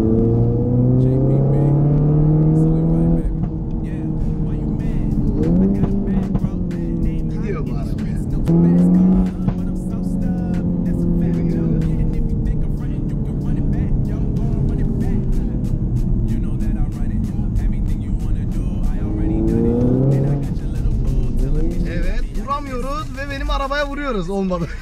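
A 2016 Audi TT, stage 2 tuned to 350 bhp, drives with a loud steady engine drone that rises and falls through gear changes, under Turkish talk from the occupants.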